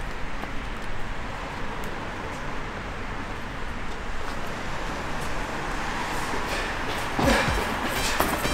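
At an underground U-Bahn station, a subway train's continuous rumbling roar carries on steadily, loud and close, with a faint rattling surge toward the end.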